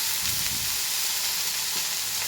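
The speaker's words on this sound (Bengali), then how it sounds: "এবারে ভালো করে নেড়ে একটু নুন দিয়ে দেবো যাতে পটলগুলো সিদ্ধ হয়ে যায়" Pointed gourd fries in a pan while being stirred, giving a steady, close, crackling sizzle throughout, with no talking.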